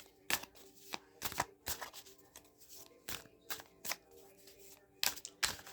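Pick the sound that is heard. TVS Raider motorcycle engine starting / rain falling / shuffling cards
shuffling cards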